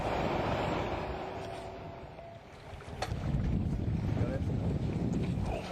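A Warrior 170 boat with a Suzuki DF90 outboard runs at top speed, a continuous engine and hull roar with heavy wind buffeting the microphone throughout.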